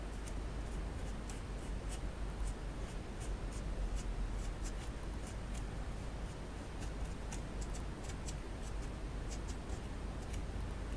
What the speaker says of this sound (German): da gleitet der Stift so schön rüber